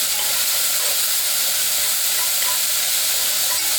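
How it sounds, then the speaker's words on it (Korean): Chopped green onion and onion stir-frying in an oiled pan for jjajang ramen, a steady loud broadband sizzle and hiss with faint stirring, no talking. "이제 대파 반대와 양파 반개를 썰어서 기름 두른 팬에 넣고 잘 볶아주세요."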